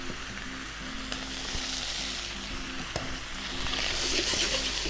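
Starchy potatoes fry in a pan with a loud, continuous close-up sizzle that builds slightly. A few light stirring knocks come through, and nobody talks.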